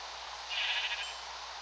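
Sheep bleat in a video game, one drawn-out, fairly faint bleat over a steady hiss of background noise.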